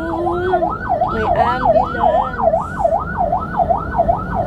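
Ambulance siren wailing in a steady up-and-down sweep, fairly near and loud over road noise, with a brief voice heard in passing.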